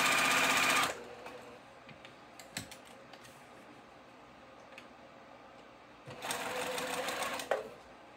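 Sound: sewing machine stitching a cow print ribbon tutu

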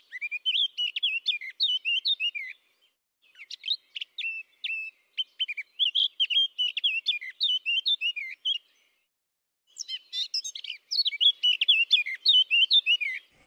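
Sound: Eurasian blackcap song, resembling a stressed blackbird

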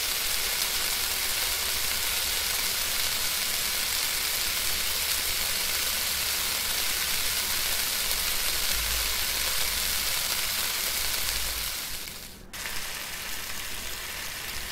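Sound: food sizzling while cooking in Cooking Simulator video game

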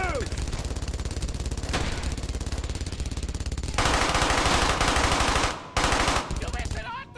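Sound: MG42 machine gun fire in the video game Brothers in Arms: Hell's Highway

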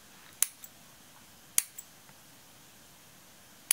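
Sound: scissors cutting material shorter

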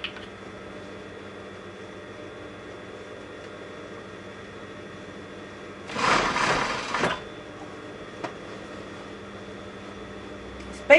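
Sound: sewing machine stitching a folded seam on curtain fabric

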